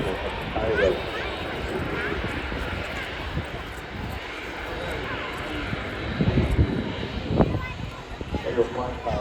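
An Emirates Airbus A380 takes off at Manchester Airport with a broad, continuous jet roar that swells louder toward the end, while people talk over it.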